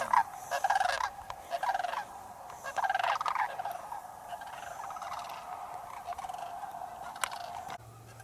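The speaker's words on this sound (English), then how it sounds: "Oh, I hear some cranes." Cranes call from a distance near a bike trail, with rough, rolling trumpeting cries repeating over steady outdoor background noise.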